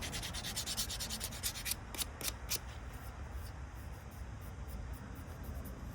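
Hand sanding on plastic or resin before priming gives quick, rhythmic rasping strokes, close and fairly quiet, then a few slower passes as the scratching fades into a soft hiss.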